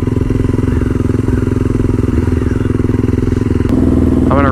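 A motorcycle engine with a loose clutch cable runs loud and close in a rough, pulsing idle, then shifts abruptly near the end with a rising rev as it falters.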